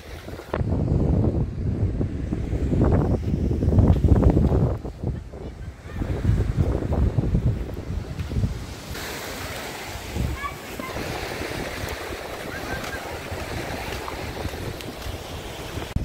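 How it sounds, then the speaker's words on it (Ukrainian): Cool wind blowing along the Odesa seaside beach, a steady breezy rush with microphone buffeting and soft surf beneath, while people talk over it for the first half before the wind carries on alone. "Ну вітерець дує, такий прохолодний."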